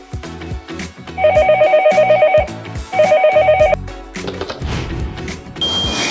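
A SIP phone in a factory rings in two bursts of rapid electronic trilling tones, loud and close over a busy background of industrial noise and music.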